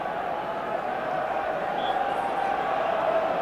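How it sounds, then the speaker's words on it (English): Rugby stadium crowd at a 1988 Wales versus Scotland match, a steady murmuring roar of many voices filling the ground, moderately loud and continuous. "And a great buzz of excitement all round this ground already."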